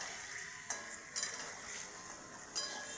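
Potatoes fry lightly in a pan as part of a papad curry, giving a soft, steady sizzle. A few sharp clinks of a spatula against the metal cut in now and then.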